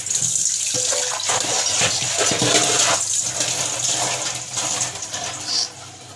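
Water runs steadily from a tap while a child washes a bowl under it, giving a close, continuous splashing rush broken by clinks and knocks of the bowl.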